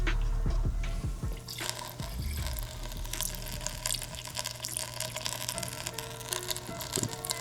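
Coolant drains from a Suzuki GSXR 600 motorcycle's cooling system, a steady close trickle and splash of liquid into a container with irregular drips and gurgles throughout.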